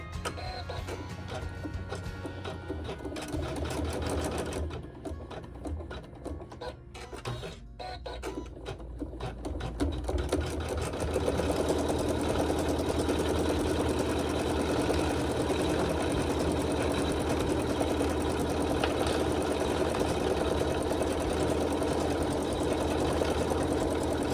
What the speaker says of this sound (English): bring your bobbin thread to the top if your backing is on, and it'll sew some quilting.